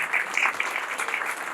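A standing ovation for a university chancellor, dense sustained clapping from a large standing audience, steady and fairly loud throughout with no voices on top.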